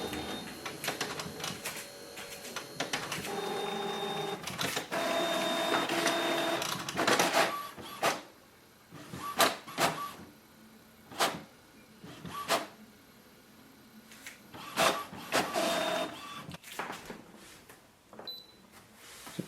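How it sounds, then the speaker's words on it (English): An Epson XP7100 inkjet printer makes a colour copy, its print head shuttling back and forth with whirring motor runs, clicks and clacks of paper feed in an irregular mechanical rhythm, heard close in a quiet room. "printer is working normal"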